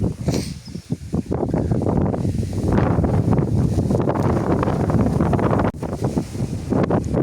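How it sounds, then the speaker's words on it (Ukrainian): Wind gusting across a field of Podolianka wheat outdoors, a steady broadband roar of buffeting that swells and holds loud through most of the stretch, with brief dips before it picks up again. "Вітер дує, звісно, не знаю, чуть чи не чуть."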